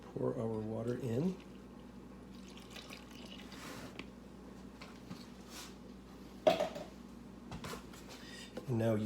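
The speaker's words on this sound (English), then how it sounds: "Pour our water in." Around 350 grams of water poured into a bowl of yeast and flour for fougasse dough, a short burst of liquid splashing followed by quieter trickles and a drip or two, close-up, with a voice audible at moments.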